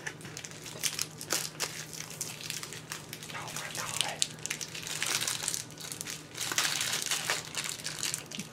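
Close, continuous crinkling and tearing of plastic packaging held on with tape as it is pulled off a giant lollipop, with repeated crackling bursts and faint voices underneath.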